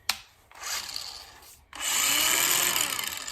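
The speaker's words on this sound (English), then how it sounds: "angle grinder" An 18-volt cordless angle grinder spins up in two bursts, first a short whine that winds down, then a steady, loud sustained run with a bright high-pitched motor tone close by.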